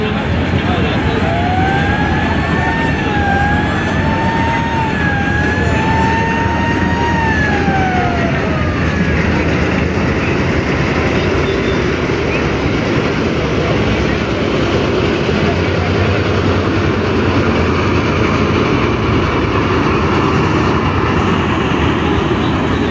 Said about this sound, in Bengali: আর অ্যাডভেঞ্চার এক লঞ্চ কিন্তু ফাইনালি ব্যাক গিয়ার দিল